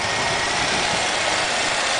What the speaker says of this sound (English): I just got done installing it and now the engine's running.